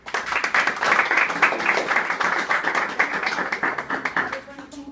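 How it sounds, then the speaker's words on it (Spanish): An audience at a medical talk claps warmly to welcome a speaker, a dense burst of hand claps that holds steady for several seconds, then thins out as voices begin to murmur. "les quiero pedir de favor que recibamos a Carla con un fuerte aplauso"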